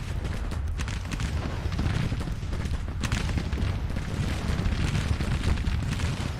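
Dense, continuous rumbling gunfire and artillery from a Civil War battle near Washington DC in Grand Tactician, a steady loud wash of booms and crackling volleys with a sharper burst midway.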